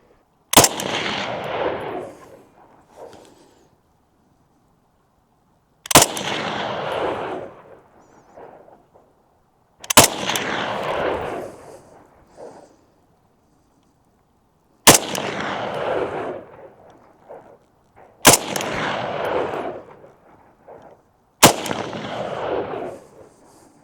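Six sharp, loud firearm shots ring out in the Arizona desert, evenly spaced a few seconds apart, each trailing off in a long rolling echo, fired with very old Russian surplus ammunition.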